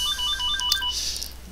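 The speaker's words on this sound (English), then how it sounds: "Sorry about the phone, but I can't really disconnect it." A telephone ringtone trills in a repeating electronic pattern during a lecture on Linux filesystems, clear and fairly loud in the room, then fades into a hiss of room noise.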